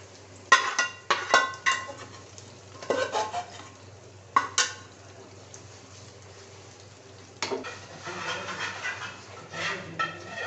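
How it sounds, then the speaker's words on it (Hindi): Jaggery syrup is added to a pot and roasted for jaggery rice, with a spoon scraping and clattering against the pot in irregular bursts over a faint sizzle. "थोड़ा सा इनको मैं इसमें रोस्ट करूंगी और साथ ही इसमें ये शीरा डाल दूंगी।"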